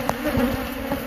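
Agitated honeybees hum in a steady, dense drone inside an open hive during an inspection, close and continuous across a brief moment.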